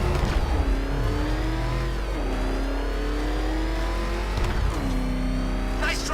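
A car in Batman Arkham Knight drives hard with a loud mid-pitched engine that revs up and shifts repeatedly, rising whines breaking off and climbing again, with no talk over it.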